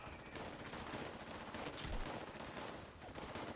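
Sustained rapid gunfire from a Fallout 76 video game battle, dense overlapping bursts that keep up a steady loud roar for several seconds without pause.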